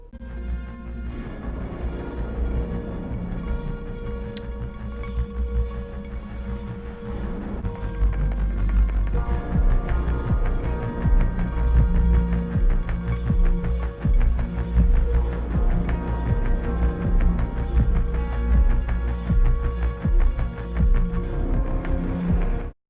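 A self-made song for the game No Room in Hell, with a sparse opening that builds into a denser, driving loop of steady rhythmic beats and layered tones, alone with no talking.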